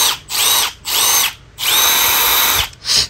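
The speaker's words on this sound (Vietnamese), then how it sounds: "Đây là cây bắn vít ha" A Milwaukee 12V Gen 3 cordless screwdriver from 2022 whirs in four short, loud bursts with a high motor whine, close up, with brief pauses between trigger pulls.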